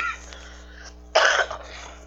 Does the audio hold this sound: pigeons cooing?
no